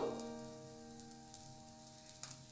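Spongy dosa roasting on a hot pan with homemade butter, a soft steady sizzle with faint crackles running throughout, close and fairly quiet.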